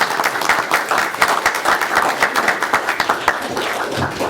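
An audience at a county board of education meeting breaks into applause, a loud, dense run of clapping with distinct individual claps standing out in a fairly quick rhythm.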